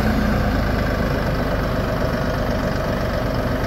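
The engine of an LS XR4145 tractor idles steadily and smoothly after a crankshaft sensor replacement. It is a continuous low rumble with no talking over it.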